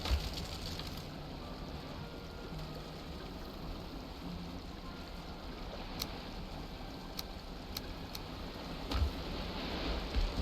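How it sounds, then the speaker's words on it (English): Rain falls in the video game Valheim as a continuous, even hiss of rainfall with no talking, broken only by a few faint ticks and soft low thumps near the end. "It is raining"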